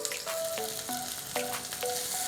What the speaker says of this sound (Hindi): अब मैं इसको खोल के थोड़ी देर खुले में पकाऊंगी।